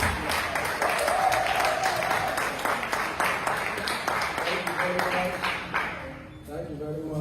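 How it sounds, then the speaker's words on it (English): An audience at a professional training event claps in sustained rhythmic bursts while a voice speaks over it and a faint tone rings. The clapping fades near the end. "Keep clapping for me."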